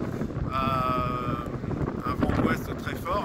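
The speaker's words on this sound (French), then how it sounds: "vous entendez le souffle du vent derrière moi." Strong gusts of Storm Ciaran roar and buffet the microphone on the coast at Les Sables d'Olonne, with someone talking through the wind.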